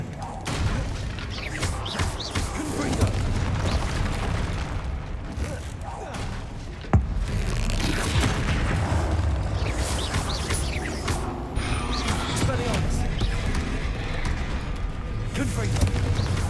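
Spell explosions from Bombarda and Confringo in Hogwarts Legacy, a dense run of booms and blasts mixed with combat effects and music, with a voice speaking over the action.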